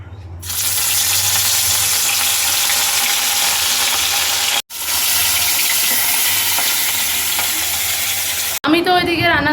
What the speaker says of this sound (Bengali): এখন আমি এসেছি মাছের ঝোল করতে।